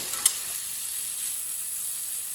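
A salad mixture cooks in a hot pan for a minute, giving a steady, even sizzle and hiss close by, with a brief faint clink near the start and no voices.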